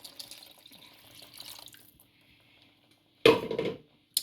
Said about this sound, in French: Je rajoute de l'eau.